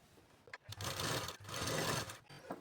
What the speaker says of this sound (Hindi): सीधी सिलाई लगा करके इसमें जोड़ लेनी है।